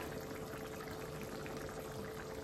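Lobia beans boiling in water in a cooking pot, a faint, steady bubbling hiss that carries on evenly throughout without any breaks.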